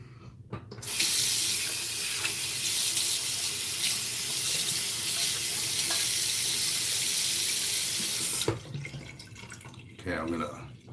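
A bathroom tap runs at full flow into a sink for about eight seconds during a shave, rinsing the razor, loud and close, then shuts off, followed by light splashing and handling sounds.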